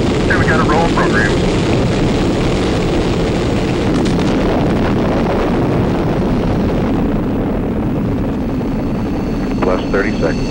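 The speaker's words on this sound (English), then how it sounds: "All engine running. Liftoff. We have a liftoff." Rocket liftoff with all engines running, a loud, continuous broadband roar that fills the whole clip without letup, with radio voices heard faintly over the rumble.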